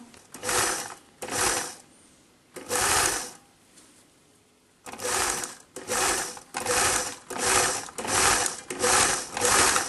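Sewing machine stitching a SOFIA top from a ready-to-sew kit, loud close whirring runs of about a second each, repeated with short pauses and one longer gap.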